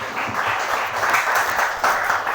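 A church congregation claps, a lively burst of applause with uneven surges, fairly close and loud, with faint voices mixed in.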